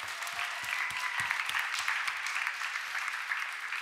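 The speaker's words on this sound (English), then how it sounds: "I just want to give you guys a round of applause for all the work you've been doing." A crowd of teachers, principals and school administrators gives a steady round of applause at a mayoral event on school safety, a dense wash of many hands clapping continuously, fairly close, without speech.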